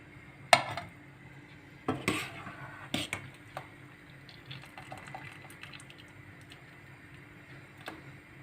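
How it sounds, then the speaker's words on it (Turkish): Cooked bulgur köfte is lifted out of water with a metal strainer, giving a few sharp clinks against the pot and soft watery splashes, then quieter scattered taps over a low kitchen hum. "Şimdi süzgeç yardımıyla suyun içerisinden alıyoruz."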